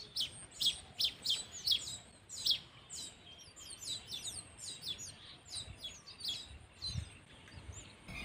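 Golden weaver chicks calling from a nest as the parent brings food, a rapid series of thin high chirps at first, then softer overlapping cheeps, faint and at a little distance.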